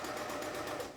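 Sewing machine chain piecing quilt pieces, a brief steady whirring run of stitching at moderate volume with no pauses.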